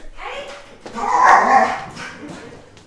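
A dog, Olive, gives short excited barks and whimpering yips up close, with the loudest burst in the middle and a voice briefly heard alongside.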